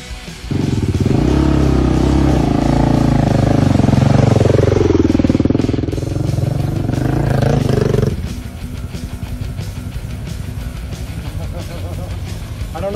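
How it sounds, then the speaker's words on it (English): Several motorcycles approach during a ride with locals, their engines a loud, continuous roar that swells and then drops to a lower rumble as they near and settle. "I hear motorcycles coming"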